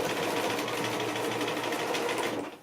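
A sewing machine stitches fabric for paper piecing, running fast and steadily right to the edge of the seam as a loud, even whirring buzz that slows only at the very end.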